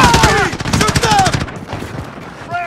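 Automatic weapon fire in Call of Duty: Modern Warfare, loud rapid bursts crackling for the first couple of seconds before thinning out, with shouted voices layered over the shooting.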